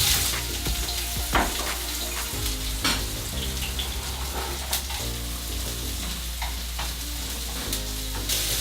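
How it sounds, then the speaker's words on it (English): Onions frying in a little oil in a pan, giving a steady, close sizzle and crackle that runs throughout with no talking. "So we're just going to fry the onions a bit until they're golden brown"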